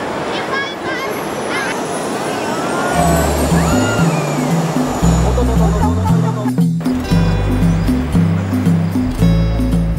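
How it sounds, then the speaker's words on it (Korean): Indian Ocean waves make a continuous broadband wash of surf that runs throughout, partly masked by music that starts a few seconds in and by a voice talking over it. "제 눈앞에서 인도양의 바다가 지금 춤을 추고 있습니다."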